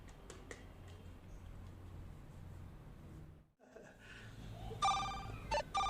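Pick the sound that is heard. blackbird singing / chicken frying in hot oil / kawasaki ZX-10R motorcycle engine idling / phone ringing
phone ringing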